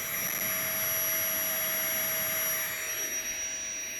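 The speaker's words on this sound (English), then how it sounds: "To me, this is quite noisy." A Flextail Tiny Pump 2X portable air pump runs steadily and close by, a loud continuous whirring drone with a high whine on top, holding level for the whole stretch with no talking.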